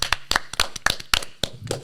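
A few people in a small football podcast studio give a round of applause, sparse, sharp, close claps in an uneven burst of about ten hits.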